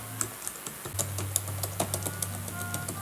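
Keys clatter on a second-hand MacBook Pro 15-inch laptop keyboard, a quick run of light, crisp clicks close by with brief pauses, over a low steady hum.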